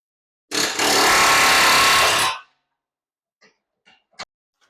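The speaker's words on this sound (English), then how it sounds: "I'm going to take an air hammer with a pickle fork on it." A loud, continuous burst of a pneumatic air hammer with a pickle fork, separating a ball joint on a 2018 Honda CR-V, lasting nearly two seconds, followed by a few faint clanks and a sharp metallic tap.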